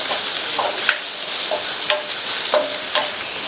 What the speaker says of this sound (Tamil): இந்த பீட்ரூட்டை ஹை ஃப்ளேம்லேயே வச்சு ஒரு 2 நிமிஷத்துக்கு வதக்கிக்கோங்க